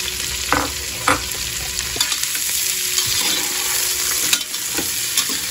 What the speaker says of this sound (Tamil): எல்லாத்தையும் போட்டு நல்லா வதக்கணும்